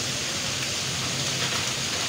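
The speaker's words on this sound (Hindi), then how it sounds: "ये देखें इतनी तेज़ बारिश है ना" Heavy morning rain falls hard and steady, a dense, close hiss with no break in it.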